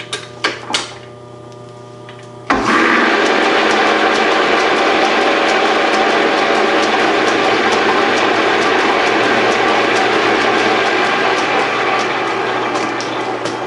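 A Pratt & Whitney lathe in second or third gear starting a test cut: a few clicks, then the machine spins up into a loud steady whirring drone with gear rattle that holds to the end.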